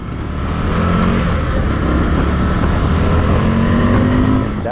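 A 2019 Indian FTR1200S V-twin motorcycle accelerates hard, its loud, rough engine roar holding steady and close, with a rising tone near the end.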